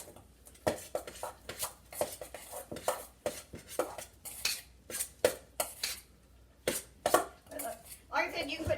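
Cauliflower pizza crust mixture is stirred with egg white in a bowl, giving repeated scraping and clinking strokes of a utensil against the dish in an uneven rhythm, close and fairly quiet.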